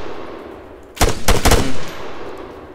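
Close burst of rifle gunfire in the military shooter game Arma 3, several sharp loud shots in quick succession over about a second, standing out from a quiet ambient background.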